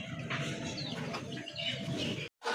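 Pigeons at a seller's stall coo and chirp softly in a dense, overlapping murmur, with some faint wing sounds, close but low and continuous.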